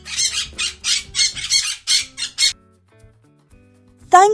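A cartoon parrot in a children's storybook gives a single sharp, rising squawk near the end, loud and close, after a run of rhythmic bursts and a short quiet gap.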